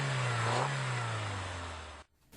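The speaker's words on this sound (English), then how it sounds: "The engine is running while I spray carburetor cleaner down the throat of the throttle body." A car engine runs fast and strained while carburetor cleaner is sprayed into the throttle body. The drone is close and steady, dips slightly, then cuts off abruptly near the end.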